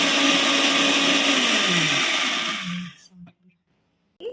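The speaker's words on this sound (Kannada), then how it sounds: "ಈಗ ನಾನು ಮಿಕ್ಸಿ ಹಾಕಿಟ್ಟಿದ್ದೀನಿ." A mixer grinder (mixie) whirs loudly and steadily as it blends juice, then cuts off near the three-second mark, leaving brief clicks and near silence before a short noise at the end.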